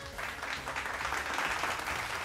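Studio audience clapping on a televised Punjabi singing competition, a short burst of steady applause from a crowd, moderately distant and fairly quiet, lasting about two seconds.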